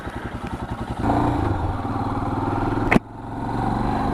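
A Royal Enfield Himalayan motorcycle engine idles with a steady thumping beat, then revs up and pulls away close by, loud and alone, with a brief clunk near the end.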